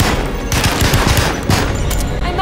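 Gunshots in the horror game Alone in the Dark crack out in a steady run of close, loud shots over dense background game noise.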